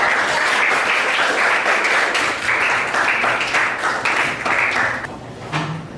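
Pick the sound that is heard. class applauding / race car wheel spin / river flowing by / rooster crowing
class applauding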